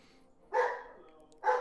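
A dog gives two sharp barks about a second apart, fairly close and moderately loud against a quiet room.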